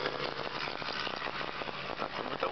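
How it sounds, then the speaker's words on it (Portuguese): A motorcycle engine runs steadily on a highway near kilometre 162, a continuous mid-pitched drone with road rumble and a slight buzzing vibration throughout, loud and close with no pauses. "Estamos correndo aqui de moto."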